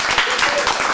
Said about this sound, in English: So if everybody could give a little round of applause to David.